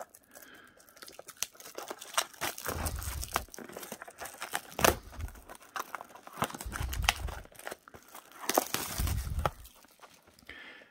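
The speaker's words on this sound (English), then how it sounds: "so I'm going to have to use the scissors." Scissors cut open the plastic wrap on a Topps Gypsy Queen blaster box of baseball cards, with close crinkling and tearing of film in several bursts, separated by quieter handling, snipping and rustling.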